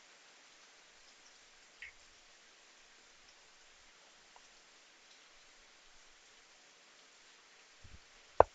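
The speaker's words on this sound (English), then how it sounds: "It's raining heavily here, guys. It's just pouring down right now." Heavy rain pouring down, a faint, continuous hiss of falling water with a few soft knocks near the end and no voices.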